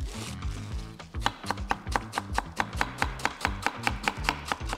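A knife chops lettuce for a smashburger on a cutting board, with a quick, even run of about a dozen sharp, crisp strikes, close and distinct.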